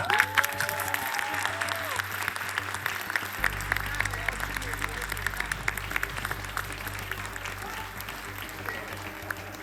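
A studio audience at the Armenian TV singing show Two Stars claps steadily in dense, sustained applause, with a brief voice and tones at the start before the clapping fills the room.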